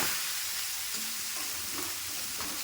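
Cabbage stir-fry for a sadya being stirred and turned in a pan, with a steady soft sizzle and scraping strokes close by, no voices.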